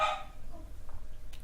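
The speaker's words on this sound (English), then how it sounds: "All I can hear is a dog barking." A single short dog bark, fairly distant and muffled, quickly fading into a quiet room.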